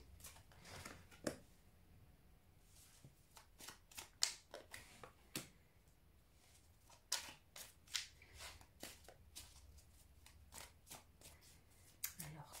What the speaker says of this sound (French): Le sumo rigolo qui bouge en même temps que je mélange les cartes.